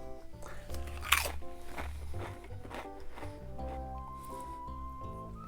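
Crisp, close crunches of Pringles potato chips being bitten and chewed come in irregular bursts with soft mouth sounds between them.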